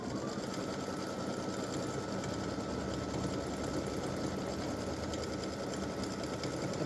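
An embroidery machine runs steadily, stitching a placement line in white thread for a Christmas gnome applique design, a continuous mechanical whir with fast needle pulsing that stays even and close throughout, with no one speaking.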